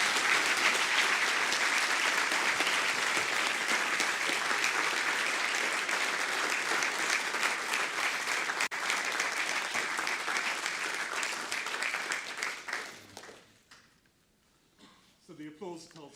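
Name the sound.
audience applause after lecture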